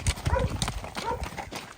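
A calm working horse for sale steps along with a few close, rhythmic hoof clip-clops on hard ground, the beats fairly loud and evenly spaced.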